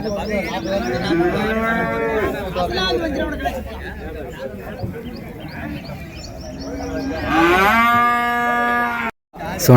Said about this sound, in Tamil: நாட்டு காளைங்க ஒரு ஜோடி இருக்கு பாருங்க